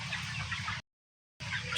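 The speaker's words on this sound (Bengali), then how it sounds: "এই দেখেন আমার সোনালি ফাউমি মুরগি।" Sonali Fayoumi chickens on a poultry farm cluck in a continuous low chatter from a flock, broken by a brief silent gap before the clucking resumes.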